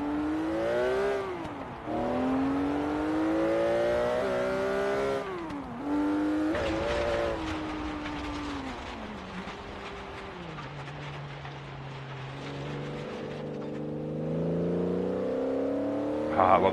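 A Honda NSX engine in Forza Horizon 3 revs and shifts through gears, its pitch climbing and dropping repeatedly, loud and steady throughout with a game-like clean tone.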